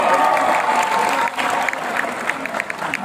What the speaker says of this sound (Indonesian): Tepukkan untuk pakcik ni